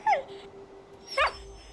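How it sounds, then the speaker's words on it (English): A dog whimpers inside a building in the video game Fallout 4, two short high-pitched whines about a second apart, fairly close and clear over a quiet background hum. "it sounds like there's a dog inside."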